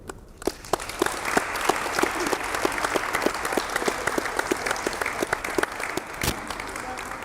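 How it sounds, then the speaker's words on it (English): Audience in a gym at a girls' basketball season kickoff breaks into sustained clapping, dense and even, with a few sharper claps standing out. "Everybody give a big round of applause to every parent and every spouse that's in here."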